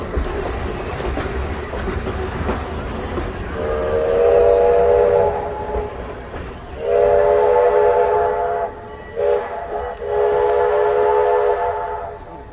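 A heritage train rumbles along steadily with wheel and carriage noise, while its whistle sounds loudly in three long blasts separated by brief gaps, fairly close.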